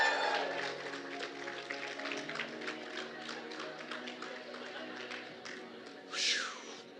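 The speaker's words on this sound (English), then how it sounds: "Give yourself a round of applause" A keynote audience at a leadership conference gives a round of applause, a thin, moderately distant patter of clapping that carries on under faint background voices, with a brief louder burst near the end.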